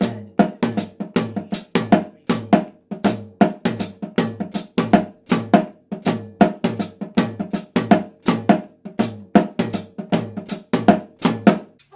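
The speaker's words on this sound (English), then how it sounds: "Next line down, you'll see we've got the snare drum and the high tom played together." Snare drum and high tom hit together in a New Orleans go-go groove, steady syncopated pattern of crisp, pitched strokes, close up and played alone without any voices.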